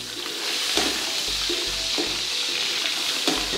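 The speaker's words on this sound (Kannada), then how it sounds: "ಇದು ಮೂಳೆ ಎಲ್ಲ ಸ್ವಲ್ಪ ಎಣ್ಣೆಯಲ್ಲಿ ಚೆನ್ನಾಗಿ ಫ್ರೈ ಆಗಬೇಕು" Mutton bones and fat sizzle and crackle in hot oil under a covering plate, a steady loud fry with occasional sharper pops and clinks, close up with no voices.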